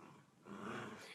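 A dog growls low and quietly, nearby in an indoor room, a rumbling snarl that swells in the middle and fades at the end.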